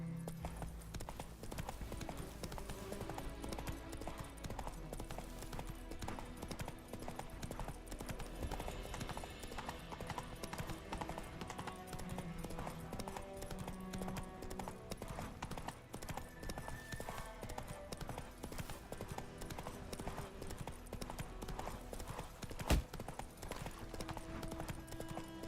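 Rhythmic clip-clop of the horse Roach's hooves galloping in the video game Witcher 3, steady and quick over a game backdrop, with a short loud thud near the end.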